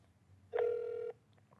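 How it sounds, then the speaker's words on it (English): A phone dialing into a call center gives one steady electronic tone of about half a second, sounding close against a quiet background, with faint clicks after it. "Let's see what happens when I dial into the call center."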